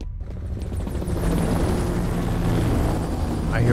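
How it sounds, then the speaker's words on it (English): Helicopter in the shooter game F.E.A.R., a steady low rotor rumble and roar that swells after the first second and holds loud and close throughout, with no talk over it. "I hear a helicopter."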